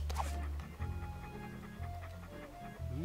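A dog in the Monkey Island 2 video game pants in quick, rhythmic huffs, close and fairly quiet, with faint game sounds in the background.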